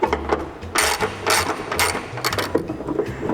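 A wrench working a nut on a hood strut stud of a 2022+ Subaru BRZ/Toyota GR86, giving a few close metallic clicks, ratcheting taps and scrapes in short irregular bursts.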